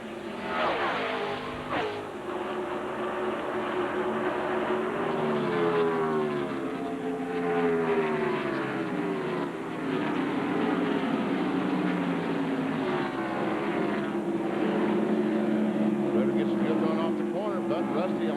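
NASCAR Winston Cup stock cars race at Michigan Speedway in 1997, their engines a continuous, distant roar with passing swells, heard under a commentator's ongoing talk.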